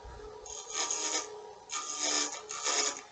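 A wood lathe turning a Christmas ornament as a roughing gouge rounds over the piece, giving three bursts of close hissing, scraping cuts with brief pauses between them over a low motor hum.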